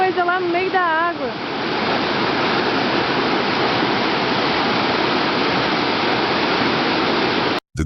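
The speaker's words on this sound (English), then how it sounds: "the cheerful sound of the falls now carried a strange," A waterfall's loud, steady rushing roar fills the whole stretch, close and unbroken, with a short warbling tone over the start and a sudden cut near the end.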